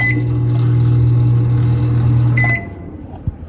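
An old microwave oven hums loudly and steadily, then its motor cuts off, followed by a soft click.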